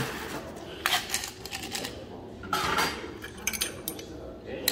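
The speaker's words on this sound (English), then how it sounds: "fill it up with ice." Ice cubes tumble into a cocktail mixing glass, giving several quick, bright clinking bursts at close range over a quiet background.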